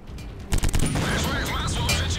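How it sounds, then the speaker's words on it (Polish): A rapid burst of tank gunfire in World of Tanks erupts, sharp repeated cracks over a busy noisy background, with scattered shots continuing afterward. "Co to za strzały tu słychać?"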